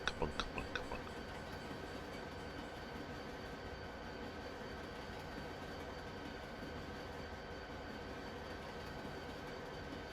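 A New Jersey Transit train in Train Simulator 2020 rolls through a residential neighborhood. A few quick wheel clacks open over a steady, low rail rumble that continues evenly, with no talking.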